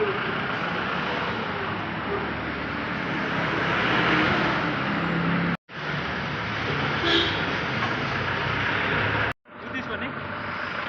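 A train at Darjeeling railway station gives a steady, loud rumbling roar that continues throughout, briefly cut out twice, with voices faintly mixed into the noise.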